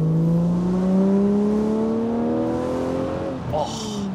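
An Aston Martin DB7 V12 Volante's 5.9-litre V12 revs loudly and steadily through Aston's free-flowing exhaust, its pitch climbing over several seconds before a brief blip near the end.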